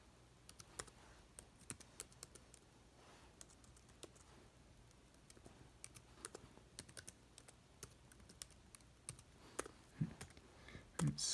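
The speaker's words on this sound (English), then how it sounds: "Sorry if I'm wasting your time with typing these out slowly." Keys tap on a computer keyboard at an uneven, unhurried pace, soft and close, with a few louder clacks near the end.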